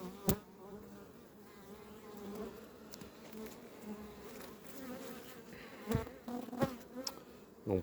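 Honeybees buzz steadily in an open hive during late-July preparation of colonies for wintering, a dense close insect drone with a few sharper bumps and knocks from handling the frames.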